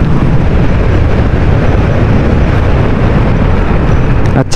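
A Yamaha Aerox V1 scooter engine roars loudly during a test ride after a top overhaul, a continuous dense engine and wind noise with no breaks, heard close as the bike runs along.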